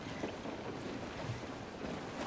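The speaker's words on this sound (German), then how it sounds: "Boah, was ist das für eine Welle?" Ocean waves and wind rushing around a sailing ship in Assassin's Creed 4 Black Flag, a dense, steady wash of surf and gusts with no talking.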